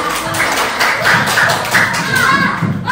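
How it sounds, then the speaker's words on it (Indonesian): Children clap in a classroom during a coding and computational thinking lesson, producing a steady run of quick, close hand claps that fill the whole stretch with light murmuring underneath. "Tepuk tangan dulu, tepuk tangan."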